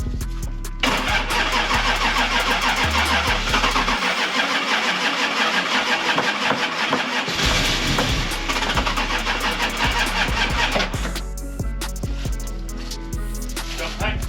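An old barn-find car engine cranks and fires up, then settles into a loud, steady running rumble close by for most of the span before easing slightly toward the end.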